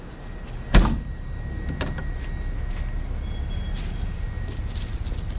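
A single solid thud of a Land Rover Defender 90 door shutting near the start, followed by a low steady rumble with a few faint clicks.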